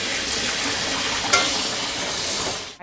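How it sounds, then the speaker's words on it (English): Cold tap water running over cooked pasta shells in a colander, a steady hissing splash held at an even level with a brief bright clink partway through. "I'm gonna run some cold water over them"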